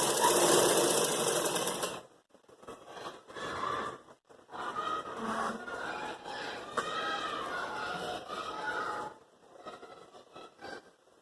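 A sewing machine stitches a raglan baby frock, with a loud run of whirring stitches at the start followed by shorter, softer bursts of machine stitching, close by and without speech.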